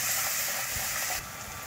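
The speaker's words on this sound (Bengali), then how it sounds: "রসুনটা একটু ভাজা ভাজা হবে।" Garlic fries in hot oil alongside softened onion in a pan, a steady hiss and sizzle that drops a little in level partway through, with no talking.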